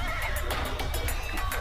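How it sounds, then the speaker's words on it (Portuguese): Horses grazing loose on a flooded plain in the Parnaíba Delta, Brazil, neigh and whinny repeatedly in a steady rhythm over a constant low rumble of wind or engine noise, with no talking. "Cavalos pastam livres na planície alagada."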